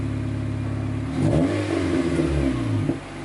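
A Honda CR-Z hybrid with a J2 Engineering aftermarket exhaust idles at cold start with a steady rumble, then revs up briefly and settles back, deep exhaust tone, close and loud.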